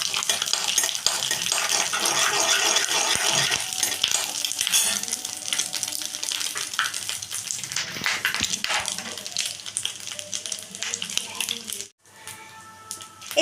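Dried red chillies, bay leaf and panch phoron fry in hot oil with a loud, steady close sizzle and crackle, broken by stirring clatter and a brief dip in sound near the end.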